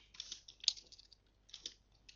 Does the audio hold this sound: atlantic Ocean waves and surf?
no